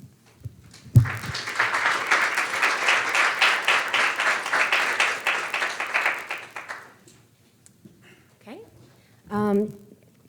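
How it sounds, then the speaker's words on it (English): Sustained audience applause fills a room at a conference session on Black student debt, loud and steady for several seconds before fading. Brief voices follow at the end. "Please join me in giving another round of applause to Dr. King."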